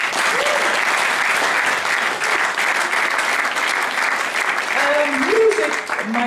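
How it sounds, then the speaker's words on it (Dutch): A hall audience at a school talent show gives the Vladimir Sisters, a ballet act, hearty applause. The clapping is dense and steady throughout, with faint voices murmuring underneath. "Ik wil van jullie dan eerst nog even een hartelijk applaus voor de Vladimir"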